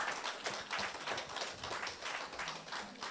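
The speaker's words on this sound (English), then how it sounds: "please give a rousing applause to our media panel" A crowd applauds a media panel at a brand-promotion discussion event, dense steady clapping from many hands filling the room for a few seconds with no speech over it.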